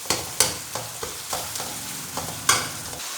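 Tomatoes fry and are stirred in a pan for cabbage and pea sabzi, with a steady sizzle broken by several sharp scraping stirs, close and fairly loud, and no talking.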